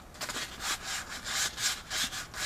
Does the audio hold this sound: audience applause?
no